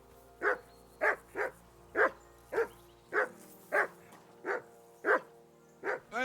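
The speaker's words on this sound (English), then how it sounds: "Henry, call off that dog and then we can talk." A dog barks repeatedly in Kingdom Come: Deliverance II, about a dozen evenly spaced mid-distance barks with a steady rhythm over a faint low ambient hum.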